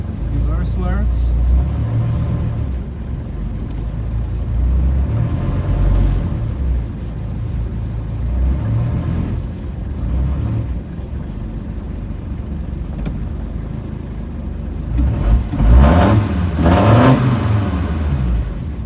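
A Dodge Ramcharger fitted with a five-cylinder Mercedes diesel engine drives along, its low engine rumble steady throughout and rising in a rev near the end, with voices talking over it.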